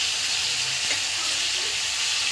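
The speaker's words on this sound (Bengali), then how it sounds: "রসুন বাটা দিয়ে বেশ কিছুক্ষণ নেড়ে নিয়েছি।" Chicken and garlic paste sizzle steadily in a pan for palak chicken, with a dense, even frying hiss and a soft scrape of stirring partway through, no talking.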